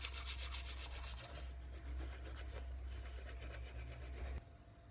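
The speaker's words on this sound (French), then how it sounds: "on brosse les dents" Teeth are brushed with whitening toothpaste, a steady close scrubbing with fast rhythmic back-and-forth strokes and a low hum beneath, stopping abruptly near the end.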